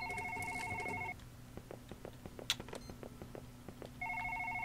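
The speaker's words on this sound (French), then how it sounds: "Toujours ce foutu téléphone qui sonne." A telephone rings repeatedly in the horror video game One Late Night, its two-tone electronic trill sounding twice, near and fairly loud, with soft clicks and a low hum from the game in the pause between.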